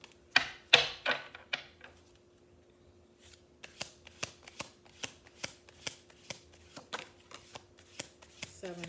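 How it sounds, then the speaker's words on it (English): Crisp riffling snaps of oracle cards being shuffled, a quick burst at first, then a steady run of evenly spaced clicks, close up. "We're going to do one more shuffle."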